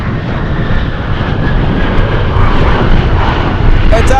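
An Alaska Airlines jet airliner in special livery roars steadily and loudly at Anchorage airport, a broad continuous engine rumble that fills the whole stretch.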